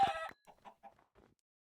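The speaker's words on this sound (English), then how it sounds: "Lots of chickens." Minecraft chickens clucking in a short burst of loud close squawks, followed by several softer separate clucks spaced out over the next second, with no talk.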